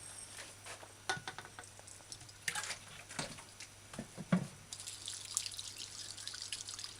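Dried peppercorns rinsed under running water at a sink, quiet trickling and irregular drips and splashes close by, with no voices.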